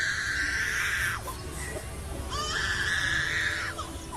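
A mimicking bird imitates a crying baby in two long, loud wailing bursts with a brief pause between them, heard clearly and alone.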